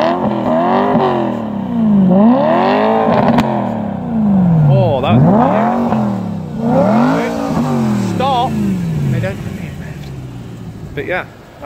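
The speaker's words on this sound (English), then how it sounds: "It's got the four pipe exhaust mod, which I'm sure you can hear now." BMW M3 fitted with a four-pipe exhaust mod, its engine revving repeatedly in rising and falling sweeps, loud and close, with a voice talking over it.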